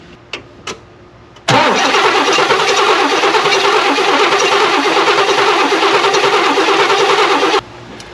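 A couple of faint clicks, then an old Oldsmobile engine, unrun for 15 years, cranks loudly and steadily for about six seconds with a rhythmic chugging, never catching before it stops.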